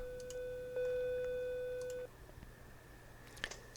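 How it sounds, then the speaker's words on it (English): A telephone rings in the video game Night Watch, a steady electronic ring tone that holds for about two seconds and then stops, followed by faint clicks. "Oh, phone's ringing."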